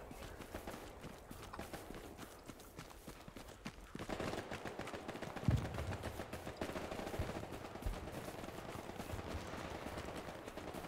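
Distant gunfire in the World War II shooter Hell Let Loose, scattered rifle and machine-gun bursts crackling faintly across the field, with one sharper nearer shot partway through and a steady background of battle noise.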